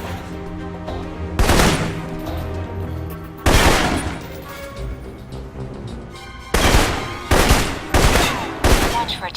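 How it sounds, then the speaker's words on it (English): Assault rifle fire in the video game Alpha Protocol rings out in loud, close bursts separated by pauses, with quieter background game ambience between volleys. "For long-range encounters, the assault rifle's the key."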